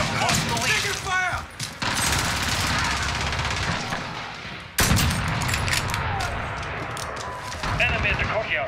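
Dense, continuous gunfire in Call of Duty: Modern Warfare multiplayer, with rapid automatic bursts and heavy booms that hold loud throughout, with a sharp blast near the middle and game voice callouts mixed into the barrage.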